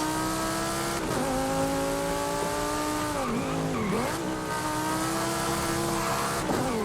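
An Audi in a driving video game drifts through mountain roads, its engine droning steadily with harmonic whine while tires squeal and sweep in pitch through the turns, continuous and close without talk.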